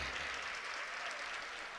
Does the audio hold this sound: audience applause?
yes